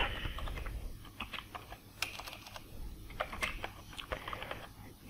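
Keys clacking on a computer keyboard while a report title and project name are entered into a Civil 3D AutoCAD drawing, bursts of quick taps in short runs with brief pauses, close and fairly quiet over a low background hum.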